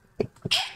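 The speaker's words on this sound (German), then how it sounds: "Oh, ich muss niesen." A person sneezes during a Grounded gaming session, a short inhale-like buildup followed by a sharp, breathy burst that trails off, close and fairly quiet.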